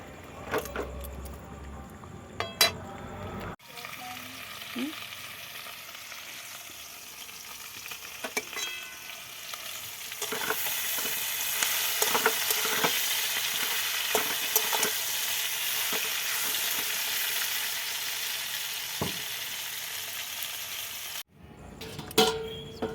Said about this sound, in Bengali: দেখো সরষাটা একটু ফুটে গেছে